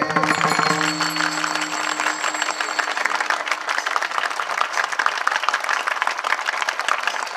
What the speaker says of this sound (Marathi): टाळी टाळी जोऱ्यात.